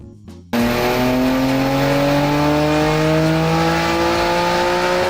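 Nissan RB26DETT twin-turbo inline-six from a Group A racing car revving hard and close, a loud sustained engine roar with rising harmonic tones after a brief quieter start.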